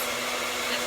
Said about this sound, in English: sometimes I even take my blow dryer, put it on cool, and blow dry my lips